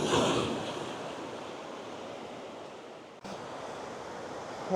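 Ocean surf washes against the jagged rocky coastline at the far end of Thomas Beach in Uluwatu, Bali. It is a steady, broad hiss and rush of waves with some wind noise and a brief dip partway through.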